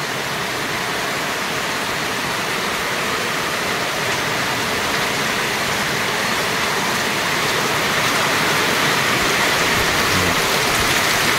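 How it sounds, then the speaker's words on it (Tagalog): Heavy rain pours down in a dense, continuous loud hiss, steady throughout with no talking. "Lakas sa ulan."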